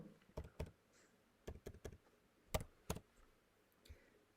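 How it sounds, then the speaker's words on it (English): Keys clicking on a computer keyboard as a mobile number is typed, a few quiet, close taps in small uneven bursts separated by short pauses, with no voices. "I type in my mobile number."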